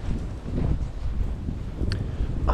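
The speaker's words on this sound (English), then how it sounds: "Oh, it is so windy." Strong wind buffets the microphone in a steady, heavy rumble that continues throughout, with no voices, outdoors in deep snow after a Canadian snowstorm.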